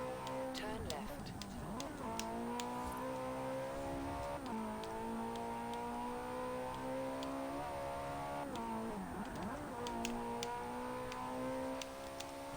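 A 2007 Ferrari 430 Scuderia driving in a Forza racing game, its engine droning steadily with rising and falling pitch as it revs through repeated gear changes, with faint ticking clicks over a continuous mid-level roar.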